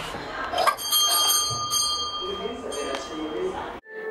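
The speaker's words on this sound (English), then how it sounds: "then you can ring the doorbell" A front-door bell at a historic house rings with bright, sustained metallic tones over several seconds, close and fairly loud, with the ringing cutting off near the end.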